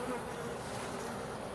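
Honey bees swarm and buzz at an open hive frame, a dense continuous drone heard close, with no speech over it.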